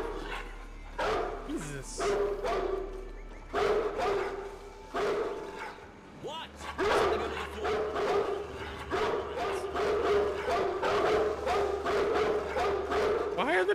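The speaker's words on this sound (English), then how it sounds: "The dog's flipping out." Dog barking inside the Splinter Cell Pandora Tomorrow video game, repeated sharp barks and yips over a steady game drone, with someone talking over it.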